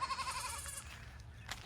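Goats bleat in a wavering, tremulous call at the start, heard outdoors in a field with grass and a temporary fence, moderately near, with a quieter second bleat later over low ambient noise.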